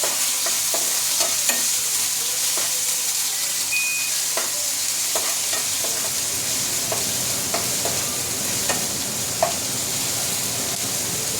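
Ginger garlic paste fries in a pan with oil, giving a loud continuous sizzle and crackle with occasional stirring clicks throughout, steady and close with no talking.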